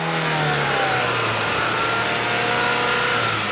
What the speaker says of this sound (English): you heard her little four-cylinder engine